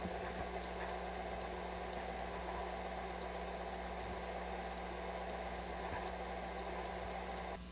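A bakery stand mixer working coconut casquinha dough at low speed after flour is added gradually, producing a steady, even motor hum with constant whirring that stays level throughout and then drops slightly at the very end.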